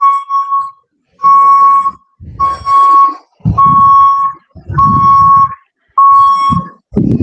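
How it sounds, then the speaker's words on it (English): A loud electronic beeping from a stationary drayage truck repeats about six times in steady pulses, with low rumbling noise between some beeps, like a vehicle's reversing alarm. "I heard that beeping, but it wasn't moving."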